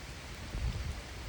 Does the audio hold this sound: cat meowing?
no